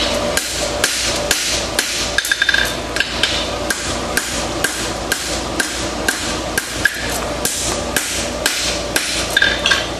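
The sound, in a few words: hammering and flattening a horseshoe's inside edge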